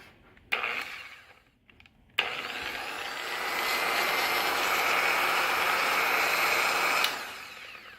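A Harbor Freight dual-action orbital polisher with an Astro Pneumatic backing plate, freshly re-greased, gives a couple of short bursts, then spins up and runs with a steady, smooth whirring drone for about five seconds before cutting off, close by.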